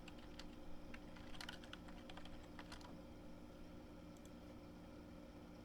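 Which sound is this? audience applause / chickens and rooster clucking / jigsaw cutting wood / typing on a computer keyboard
typing on a computer keyboard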